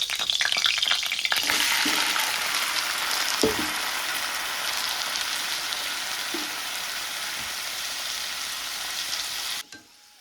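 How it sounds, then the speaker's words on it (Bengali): Bitter gourd slices frying in hot oil, a steady loud sizzle that holds evenly for about nine and a half seconds with a few soft stirring knocks, then cuts off abruptly. "তিতা করলো ভাজাটা করে নিই"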